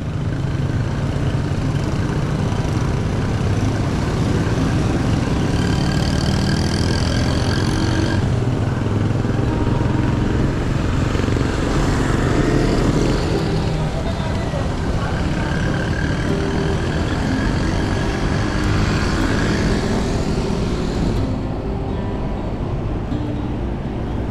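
Busy street traffic outside UP near a colourful bike lane, with motorcycles and cars rumbling past in a continuous, dense engine drone that swells and eases over time.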